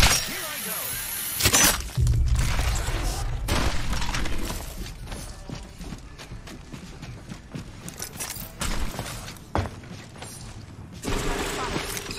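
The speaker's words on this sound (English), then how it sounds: "He's now getting sniped." Sniper gunshots in a multiplayer shooter, a few sharp, loud cracks spaced seconds apart, each followed by a brief rumbling tail, with game ambience and a player's voice between them.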